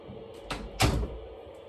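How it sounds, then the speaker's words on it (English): A door being shut nearby gives a quick brush of movement, then a solid close thud, brief and close by in a quiet room. "Shut this door."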